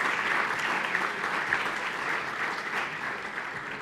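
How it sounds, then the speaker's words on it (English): Sustained applause from a conference audience thanking the speakers, a dense, steady wash of many hands clapping at close range, with no talking over it. "If we could do one more round of applause for all of our great speakers, excellent speakers today."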